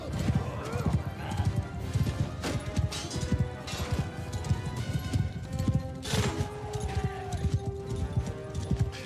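Galloping horses carry horse archers across a battlefield in the Old Realms mod for a medieval battle game, with rapid, dense hoofbeats, occasional neighs and crashes of combat, while someone talks over them.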